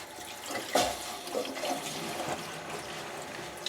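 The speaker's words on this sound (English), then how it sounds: "I can turn on the water" Water gushes from a sink faucet into a basin over a freshly tightened P-trap, a steady splashing rush with a brief louder burst near the start, close and alone.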